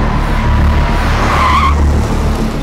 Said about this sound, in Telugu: అదేంటి అబ్బాయి ఆ బళ్ళు, ఏంటి ఆ స్పీడ్, ఏంటి ఇక్కడ ఏమన్నా రేస్ చెప్తా?